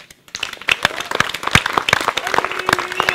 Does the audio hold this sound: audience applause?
yes